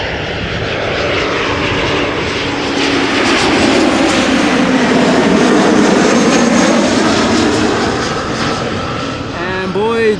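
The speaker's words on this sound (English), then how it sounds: "This is an Embraer 190 KLM flight 1474, arriving from Glasgow" A KLM Embraer 190 jet arrives at Amsterdam Schiphol from Glasgow, its engines a loud, sustained roar that swells and shifts in pitch as it passes near, with a voice talking over it.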